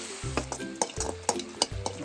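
Two pinches of asafoetida roast in a pan for a Kerala lime pickle, giving a bright crackling sizzle broken by repeated scraping strokes of a stirring spoon, close and clear with no voices.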